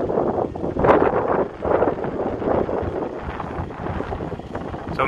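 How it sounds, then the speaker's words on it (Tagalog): Strong seaside wind blows at the Montemaria Shrine in Batangas, a loud, continuous roar buffeting the microphone with gusty swells throughout. "Napakalakas din ang hangin dito, no?"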